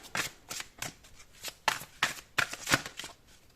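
Tarot cards drawn and handled during a reading, a series of crisp, papery snaps and slides, about eight quick close-up flicks in an uneven rhythm with no talk.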